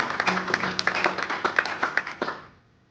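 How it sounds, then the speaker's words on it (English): Audience applause at a promotion launch event, a small crowd clapping at a brisk, fairly even rhythm for about two and a half seconds before fading out. "how about a big round of applause before we jump into our Q&A?"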